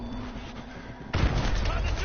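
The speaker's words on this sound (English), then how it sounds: "That flashbang backfired." Flashbang grenade going off in Call of Duty: Modern Warfare 2 Remastered, a sudden loud broadband blast that cuts in about halfway and stays as a dense roar, following quieter game ambience with voices.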